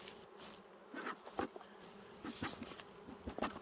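Honey bees buzz from an opened hive, a soft, close drone with a few louder passes of individual bees swelling and fading over a few seconds.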